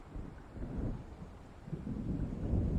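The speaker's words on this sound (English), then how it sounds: "It seems there's a storm coming." A thunderstorm rolls in within the Alan Wake video game, a low, continuous rumble of thunder mixed with wind and rain that slowly swells louder, with no one talking.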